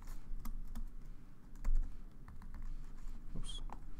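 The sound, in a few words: typing Java code on a computer keyboard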